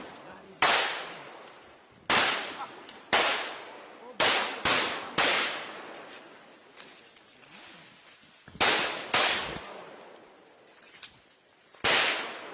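Bomb and ammunition explosions go off one after another, about a dozen sharp loud cracks and bangs at irregular intervals with short decays, standing alone without talk.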